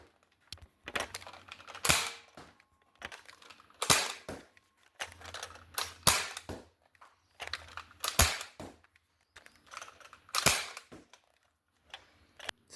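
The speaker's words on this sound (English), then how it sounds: "So let's just give it a couple of test shots." Dartzone BF-2 Blitzfire foam dart blaster fires a series of test shots, each a sharp springy snap and clack from the compact blaster, spaced irregularly about a second apart, close and fairly quiet with no talk.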